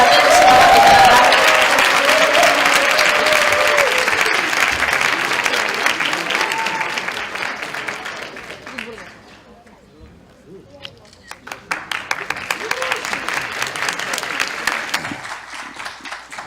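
University students at a leadership academy lecture in Busan applaud loudly to welcome Hong Joon-pyo, leader of the Liberty Korea Party. The dense clapping and crowd noise dip briefly and then swell again into a second round of steady applause.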